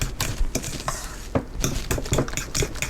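A spoon stirs banana bread batter mixed with vegan mayonnaise in a bowl, giving close, loud scraping and clinking strokes in an irregular rhythm.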